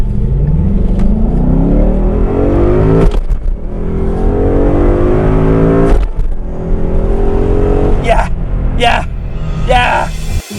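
2016 Ford Mustang GT engine revving hard through rising gears, loud and close with repeated climbing pitch sweeps and brief gaps at each shift, a voice exclaiming over the roar.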